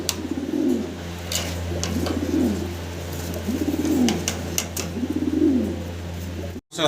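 White bar mong fancy pigeons cooing in a loft, four slow rolling coos at even intervals over a low steady hum, fairly close with no talk.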